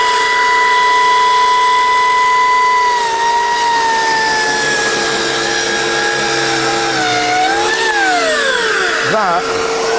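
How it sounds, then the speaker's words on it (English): An Exakt DC270 electric saw motor runs loud and steady with a high tonal whine that drops in pitch as it bites into the material, then briefly rises and falls near the end. "these saws will go through this material"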